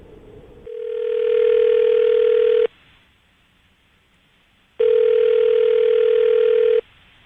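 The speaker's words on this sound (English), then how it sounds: "we're going to call her right now and see if we can get her on the phone" A telephone call placed on a line: a steady dial tone swells up, then drops to quiet before a second identical long ring tone plays, loud and clean with no talking.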